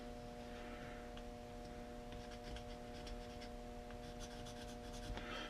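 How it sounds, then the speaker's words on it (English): Faint scratchy strokes of a pencil drawing lines on metal lathe parts, quiet and close over a steady electrical hum. "Just putting some pencil lines here so I remember which"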